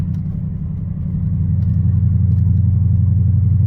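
A heavy Lexus drives down the road, heard from inside the cabin as a loud, steady low engine rumble and road drone that swells slightly and then holds even.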